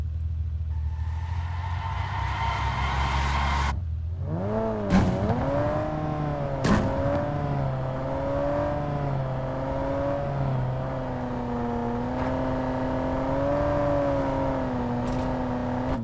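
A Bentley's engine revs up from idle in PUBG Mobile, holding a steady, droning whine with rising and falling pitch, loud and continuous, with occasional sharp clicks.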